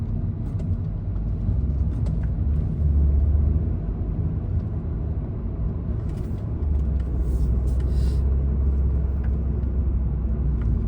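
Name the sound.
night road traffic on King Fahad Road, Riyadh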